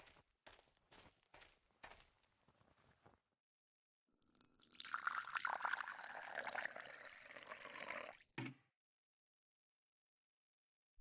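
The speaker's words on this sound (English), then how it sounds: "Now that I have filled the watering can, I can water the plants" Water splashing from a watering can onto plants in the horror game Martha is Dead, a steady close trickle lasting several seconds, preceded by soft footsteps and handling sounds and followed by silence.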